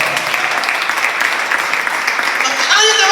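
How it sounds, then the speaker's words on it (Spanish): A church congregation gives a burst of sustained applause, dense and fairly loud, with a voice rising over the clapping near the end. "Denle fuerte ese aplauso, Señor"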